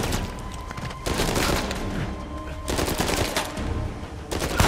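Gunfire in the video game Uncharted 4: rapid automatic bursts and loud shots come in quick clusters, close and dense, with booming impacts between them and no voices.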